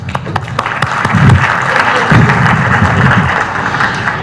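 Keynote audience in Panama clapping hands, a loud burst of applause that swells and holds steadily for a few seconds before easing slightly.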